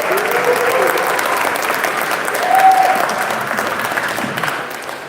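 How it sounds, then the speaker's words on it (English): A church congregation claps in a steady warm round of applause, dense and sustained for several seconds, swelling slightly in the middle before easing off. "So can we just have a little warm round of applause for Mr. Nick?"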